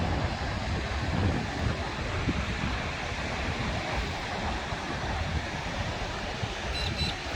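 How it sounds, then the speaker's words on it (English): Large ocean surf breaking at a beach on the north coast of New South Wales, a continuous loud roaring wash of waves mixed with wind buffeting the microphone, no voices. "Huge waves today."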